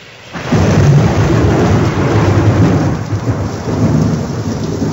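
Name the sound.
heavy rain and thunder in Rome, radio drama effect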